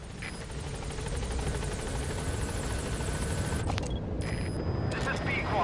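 Pequod, the support helicopter in Metal Gear Solid V: The Phantom Pain, flies in toward a landing zone. Its steady, loud rotor drone fills the whole stretch, with brief game sound effects over it.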